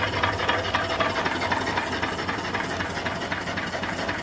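Model steam engine running off a steam boiler with a firebox and ash pan, a dense steady hiss and rumble that continues evenly throughout, close and alone.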